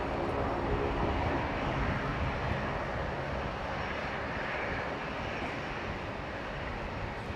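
Qantas Embraer 190 jet operated by Alliance arriving at Brisbane Airport from Canberra, a steady loud broadband engine roar that holds evenly throughout with no break.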